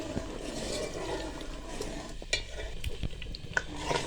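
Spinach frying in ghee in a pan while being stirred, giving a steady close sizzle with scattered scraping clicks of a utensil against the pot, no talking.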